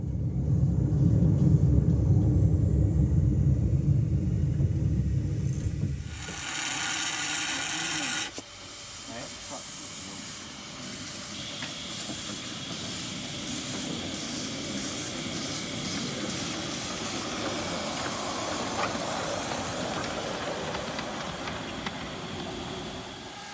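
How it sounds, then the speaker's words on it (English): A 7¼-inch narrow-gauge steam locomotive approaches with a loud hissing burst of steam and a steady rushing rumble, staying close and continuous for the rest of the stretch. "Here's our home locomotive come to join in the fun."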